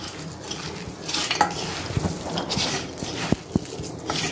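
Green gram sprout vada batter is stirred and mixed in a bowl, a close, wet squelching with occasional sharp knocks of the spoon against the vessel.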